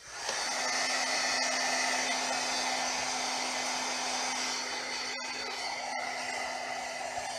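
Hair dryer drying a craft piece, a loud, steady roar with a constant hum that holds throughout, interrupted by a couple of very brief dropouts near the end.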